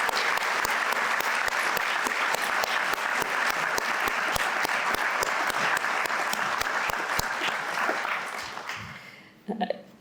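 Sustained round of applause from a crowd at a religious liberty gala and awards dinner, dense and steady with distinct sharp claps, fading out over the last seconds before a voice begins.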